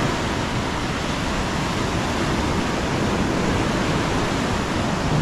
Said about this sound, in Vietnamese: Cái sóng dữ đấy. Sóng hơi to.